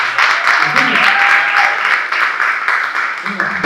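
A jazz concert audience applauds loudly and steadily, dense clapping filling the room throughout, with a voice and cheers mixed in under it.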